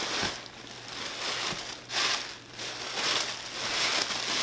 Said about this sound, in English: So let's go ahead and unwrap this so you can see what I got.